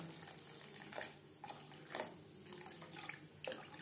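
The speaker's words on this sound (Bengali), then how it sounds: "দিয়ে দেব জল।" Water is poured into a pot of chicken vegetable soup with beans, a soft, close splashing gush that swells and ebbs in several uneven pulses.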